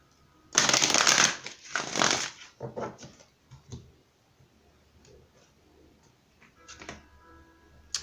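Deck of emotion cards being shuffled at close range: two loud riffling bursts at the start, then scattered softer taps and shuffles fading into quiet room tone.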